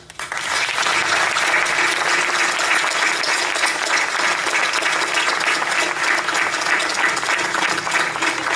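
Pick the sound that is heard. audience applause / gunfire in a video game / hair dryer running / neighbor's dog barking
audience applause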